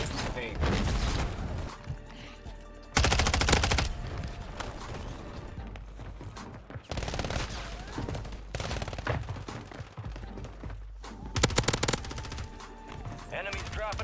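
Rapid gunfire from Call of Duty Warzone gameplay, with dense automatic bursts and loud clusters of shots separated by quieter stretches, mixed with voices and game audio.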